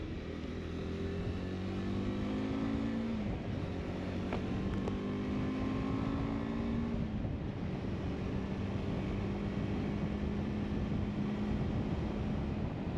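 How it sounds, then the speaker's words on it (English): Steady, heavy wind roar buffets a crash helmet while riding a KTM 390 Adventure at about 60 behind a Givi AF7711 Airflow windscreen, with the engine's drone shifting pitch underneath and no talk. "noisy and quite a bit of turbulence around the crash helmet"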